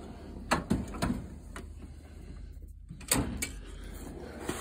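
Metal drawers of a diesel and transmission mechanic's tool box slide and clunk several times, with sharp knocks and rattles spread across the clip. The sounds are fairly quiet and come from close by.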